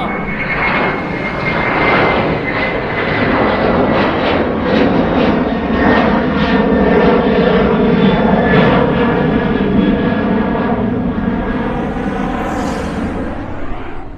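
A fixed-wing airplane climbing out from Schiphol airport roars steadily overhead, a loud, continuous engine rumble with a broad hiss that swells slightly and holds throughout, with no talking.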